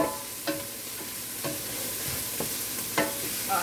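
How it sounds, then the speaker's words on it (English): Onions sauté in a pan with a constant close hiss of frying, punctuated by four or five distinct clicks and scrapes of a spoon stirring at roughly one-second intervals, with no voices. "So the onions are sauteing right now."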